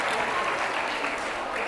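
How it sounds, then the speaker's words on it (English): A conference audience gives a steady round of applause, dense and even in loudness throughout, with no talk over it. "I just asked you all to clap for me."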